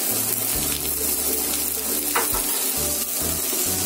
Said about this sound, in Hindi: इसलिए 1 मिनट के लिए ही फ्राई करेंगे